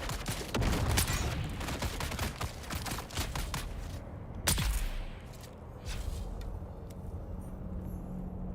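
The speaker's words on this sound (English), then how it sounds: "He threw a grenade at me." A grenade explosion and gunfire in a video game: sharp, dense volleys of shots crackle through the first half, a single heavier blast lands midway, and scattered quieter pops follow, with no talk.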